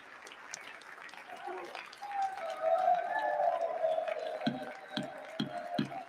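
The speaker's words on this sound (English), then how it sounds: "these fascist clowns are clapping" A crowd claps in the U.S. House chamber during a speaker election vote, a steady run of applause with raised voices and cheering blended in and several sharper claps standing out near the end.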